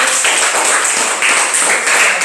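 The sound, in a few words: classroom students clapping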